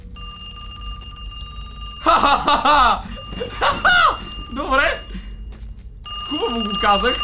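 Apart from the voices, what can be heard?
telephone ringing in a video game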